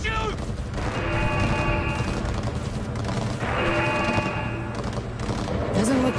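Rapid bursts of gunfire ring out during a street shootout in the video game Cyberpunk 2077, with repeated volleys and heavy impacts over a constant loud din of combat.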